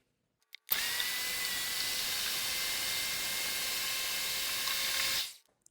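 A blender blending bananas with maple syrup whirs loudly and steadily for about five seconds, a harsh constant motor roar that starts abruptly and then winds down.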